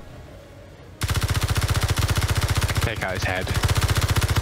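Sustained rapid machine-gun fire in the video game Escape from Mars, a steady loud rattling burst after a quiet start, with voices speaking over it partway through.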